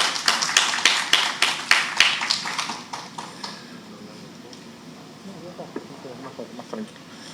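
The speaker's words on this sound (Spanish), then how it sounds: "Lo recibimos con fuertes aplausos." Applause at a conference in a hall, a burst of loud clapping that builds densely and then fades over a few seconds into scattered claps, with a low murmur of the audience.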